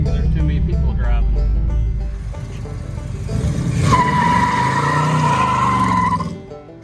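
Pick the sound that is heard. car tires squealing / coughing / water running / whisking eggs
car tires squealing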